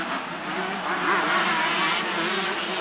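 Motocross bikes in a 1987 MXGP race at Killinchy roar and rev together off the start, a dense, steady engine drone with rising pitch, loud and continuous with no talk.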